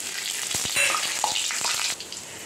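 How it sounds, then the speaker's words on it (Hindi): Chopped green chillies fry in hot oil with a bright, crackling sizzle, brief sharp pops and spatters over a broad hiss that eases off near the end. "तेल दोस्तों लगभग गर्म हो चुका है, अब इसमें हम ऐड कर देंगे कटी हुई हरी मिर्च।"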